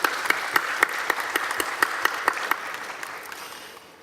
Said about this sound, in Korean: 웨스트민스터 합창단 격려의 박수 부탁드리겠습니다.